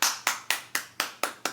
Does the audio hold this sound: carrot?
no